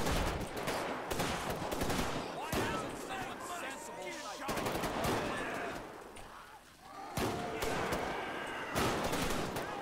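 Rapid bursts of gunfire from a GTA 5 zombie apocalypse game, loud repeated volleys and sustained automatic fire packed closely through the scene with brief lulls between clusters.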